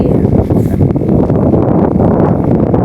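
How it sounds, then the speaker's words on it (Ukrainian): Strong wind buffeting the microphone in loud, continuous gusts, a rough roaring rush with no voices. "сьогодні ще вітер такий сильний, дуже сильний"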